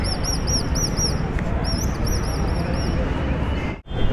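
Birds at a street bird seller's stall near India Gate in India chirp in repeated high, rapid tweets over loud traffic and crowd noise, with people talking nearby.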